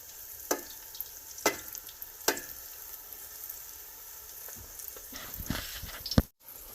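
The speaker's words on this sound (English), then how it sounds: "when the eggplant is frying" Eggplant deep frying in hot oil, a faint steady sizzle and bubbling with a few sharp clinks and stirring knocks scattered throughout.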